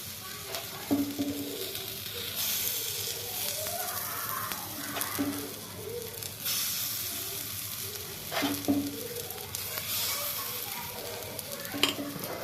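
Gamgota dumplings cooking in a pan with little oil give a soft, steady sizzle, with spoon scrapes and metal clinks recurring every few seconds, close by with no voices.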